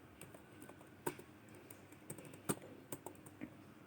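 Keys on a computer keyboard are tapped in an uneven run of close, crisp clicks, some louder strikes standing out against a quiet background.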